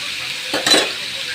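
Chili and onion hit hot oil in a pan while cooking fish, a sudden loud sizzling hiss that swells briefly, with a faint stir of utensils against the pan.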